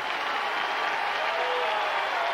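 A college football stadium crowd in Piscataway at a Rutgers versus Miami game, a loud, continuous roar of cheering spectators that stays dense and steady from start to finish.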